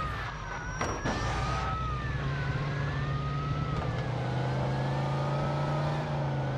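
Car engine accelerating and driving in the video game Mafia 2, a steady motor drone with a rising and falling whine, loud and continuous with a brief knock near the start and no talking.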